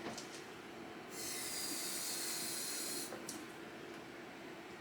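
A tablespoon of water poured into a chicken marinade, a soft steady hiss of liquid running for about two seconds, close and fairly quiet, with no talking.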